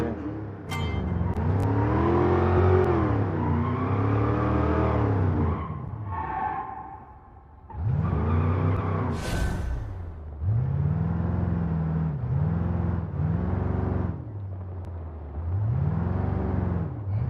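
Car engine in the BeamNG.Drive driving game revving up and easing off repeatedly through a lap, loud and close, with rising and falling pitch sweeps, brief tire skids and a whoosh, no talk.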